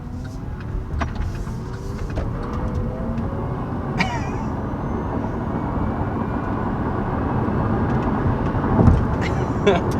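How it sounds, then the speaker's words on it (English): A 2022 Chevy Bolt EV accelerating to about 70 mph, with a steady broadband road and wind roar building gradually across the stretch and a faint electric whine under occasional brief voices inside the cabin. "So there's an acceleration up to about 70 miles an hour."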